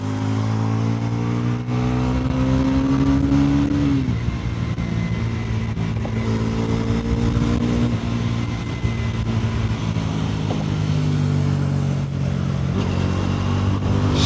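Motorcycle engine droning steadily while riding, with a strong low hum and shifting harmonic tones as the revs rise and fall, loud and close with wind rushing over it.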